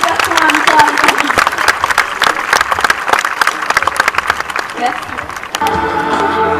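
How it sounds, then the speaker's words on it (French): Audience at a dolphin show claps loudly and continuously, a dense, steady patter of many hands with faint crowd murmur underneath throughout. "Nous pouvons applaudir bien fort nos deux moussaillons pour leur participation à l'histoire du conflit."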